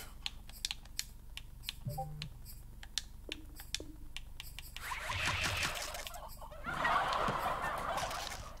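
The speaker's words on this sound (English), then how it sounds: "if y'all don't shut these goddamn turkeys up" Turkeys gobble in short bursts amid rapid clicking like a computer keyboard, then two louder, denser bursts of noisy gobbling near the end.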